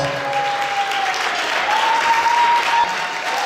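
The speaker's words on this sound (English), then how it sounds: "let's give her a big round of applause" A gala dinner crowd claps in sustained, loud applause for the foundation's founder, a dense steady patter of many hands filling the room without letup.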